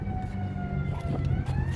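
An emergency vehicle siren wails briefly and fairly faintly in the distance, its steady tone mixed with low traffic rumble.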